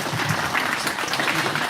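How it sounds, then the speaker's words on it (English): Brief applause from the audience at a school livestock show, a short burst of steady clapping from a modest crowd, fairly close. "Go ahead and give a round of applause to both of these young ladies."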